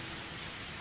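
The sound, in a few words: rain falling in a video game (Higurashi)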